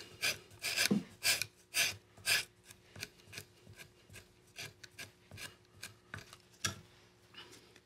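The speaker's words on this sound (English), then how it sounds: "And we're gonna skive that down" Leather gusset piece for saddle bags being skived down to a feathered edge, heard as a series of close, rhythmic rasping scrapes, some strokes louder, with faint breathing between them.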